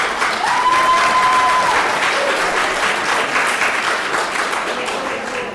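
Sustained audience applause fills a gala hall, steady and dense throughout, with a brief tonal whistle-like sound early on and no talk over it.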